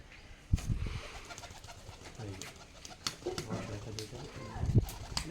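Rajshahi Giribaz pigeons coo close by in soft, throaty bursts that come and go, with a voice faintly in the background.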